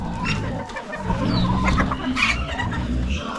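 Hens squabble and cluck in agitated bursts close by on a homestead, a short scuffle of sharp fowl calls over low barnyard rumble.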